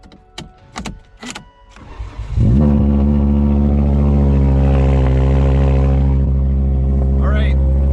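The engine of a topsoil screening machine starting up: a few sharp knocks and cranking, then it catches and settles into a loud, steady, low diesel rumble close by.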